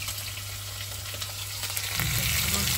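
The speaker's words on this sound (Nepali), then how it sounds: "यहाँ चाहिँ चिकन रोस्ट सुरु भइराखेको छ" Chicken frying in a pan sizzles continuously close by, and the crackle swells louder and denser toward the end.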